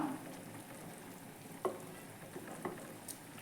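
River fish curry in a pot gives a soft, steady bubbling and sizzling simmer, with a few faint clinks and light stirring knocks. No voices are heard.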